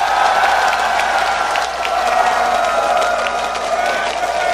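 A large crowd at a live esports quarterfinal, Azubu versus TSM, roars and cheers in a sustained wash that stays loud and steady for the whole four and a half seconds.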